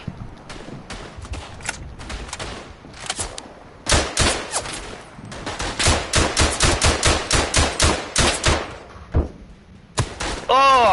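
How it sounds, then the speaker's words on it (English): Rapid bursts of gunfire from the Verdun war shooter, sharp repeated reports close by in quick irregular volleys, with a few louder clustered shots and a whining ricochet-like sweep near the end. "I knew someone was shooting at me, I could hear it"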